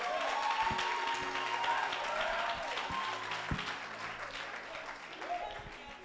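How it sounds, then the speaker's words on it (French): A church congregation at a morning service bursts into faint, somewhat distant applause and joyful acclamations, with mingled voices and cheers rising and falling throughout. "Est-ce que tu peux rendre gloire à Dieu par des acclamations aussi?"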